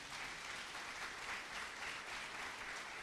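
Steady applause from a congregation during a church service, a dense, continuous wash of clapping heard from a distance at low level.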